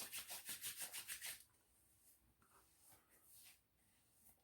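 Beard balm is rubbed between the palms in a quick run of soft rhythmic swishes, close and quiet, followed by a few fainter scattered rubs.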